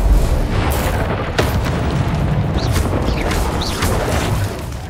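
Incendio fire spell cast in Hogwarts Legacy: a loud, continuous fiery roar with sharp booming bursts near the start and middle and faint rising whistles, holding steady for five seconds.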